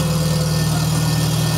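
A 1973 IH Farmall 140 tractor engine runs at half throttle, a loud, steady, close rumbling drone with an even throb and no pauses.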